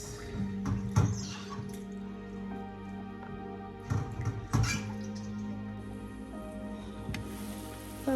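Intermittent splashing and dripping of hot water as dried stockfish is rinsed by hand, a few sharper sloshes standing out over a steady low background hum.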